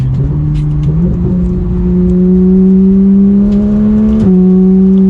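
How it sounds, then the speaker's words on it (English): A 991-generation Porsche 911 GT3 pulls through a turn, its engine note holding loud and steady close by and climbing in pitch with a brief shift-like dip near the end, with no talking. "Going around a turn like that, oh man, this is a fun Porsche to drive."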